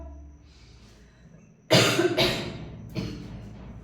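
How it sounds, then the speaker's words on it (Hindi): A woman coughs loudly several times in a quiet room, a harsh burst of two or three close coughs followed by a softer one a moment later. "अभी मुझे खांसी आई"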